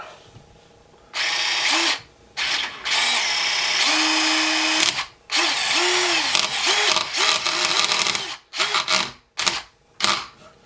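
A DeWalt cordless drywall screw gun drives screws into drywall in repeated loud bursts: a long whirring run, then a string of shorter spins and quick stop-start pulses near the end.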